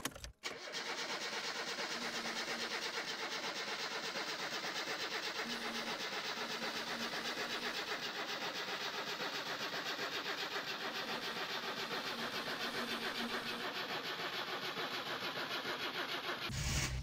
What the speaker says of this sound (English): After that was done, I checked if the car turns on.